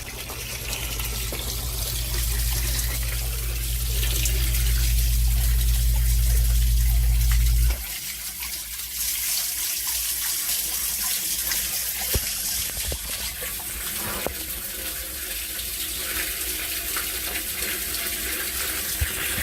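Meltwater from a thaw pours through a yard sump drainage system, a loud steady rushing flow for the first few seconds that then drops to a quieter continuous trickle and hiss.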